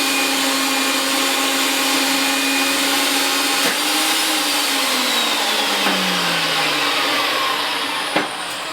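Wheeler-Rex 8090 pipe machine running while cutting, reaming and threading pipe, a loud continuous motor whine and grinding hum close by, with a few sharp knocks near the end.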